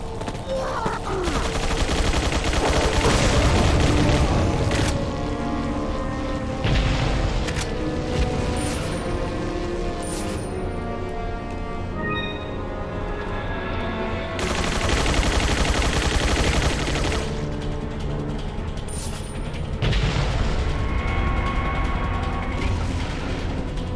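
Sustained video-game gunfire in Resident Evil 4: loud, continuous volleys of shots and booming blasts with mechanical clatter, swelling in intense waves with brief lulls, and little talk over it.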